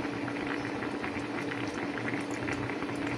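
Saba banana pinakro simmering with coconut milk in a pot, giving a steady, dense bubbling boil that continues evenly throughout without any voices.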